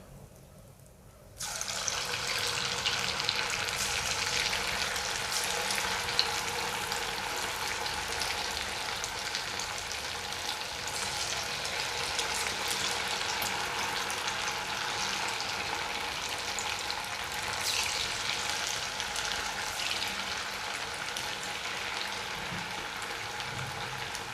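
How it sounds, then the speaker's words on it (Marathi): Small sabudana bhaji deep-fry in hot oil. After a quiet second, a loud, dense, continuous sizzle starts abruptly and holds steady and close to the end. "अशा प्रकारे आपण काढू छोटी छोटी भजी"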